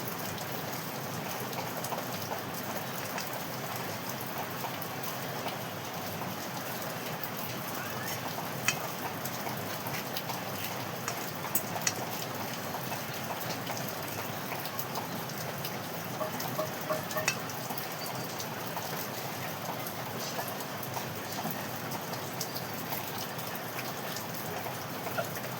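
Heavy rain falls in a steady, even wash of fine patter, moderately quiet and unbroken throughout, with no voices.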